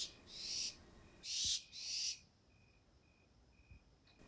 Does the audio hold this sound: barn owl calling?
yes